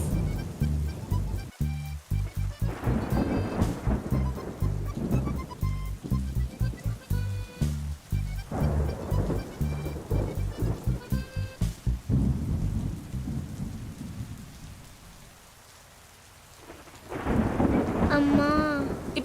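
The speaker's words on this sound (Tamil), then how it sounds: "வெள்ள மழை பெய்யுது, குளிருதுடி." Heavy rain pours steadily while loud thunder cracks and rumbles repeatedly, in a string of sharp close bursts that fade to a quieter lull before another strong roll of thunder.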